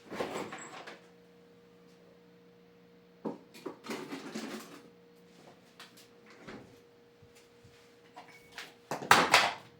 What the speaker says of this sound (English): I got a refrigerator right here. And I got water in it.